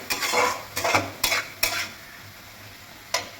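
Vetki fish, potato and cauliflower curry being sautéed in a kadai: several distinct scraping stirs with bursts of sizzle, then quieter frying between, close-up and without talk.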